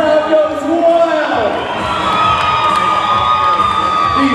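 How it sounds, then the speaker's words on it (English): Crowd at a 2011 bodybuilding and fitness championship cheering and whooping wildly, a dense, loud roar of shouts and high-pitched yells that runs the whole time with no pause. "The crowd goes wild."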